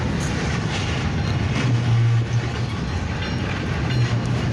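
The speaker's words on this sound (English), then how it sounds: "an actual train being derailed" A derailing train gives a loud, continuous rumble with a sustained low droning tone that swells briefly near the middle and again near the end, with no voices.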